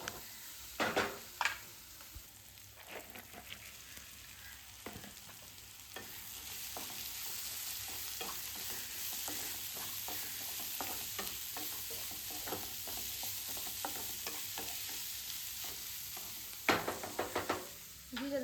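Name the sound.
onion and tomato frying for shavige upma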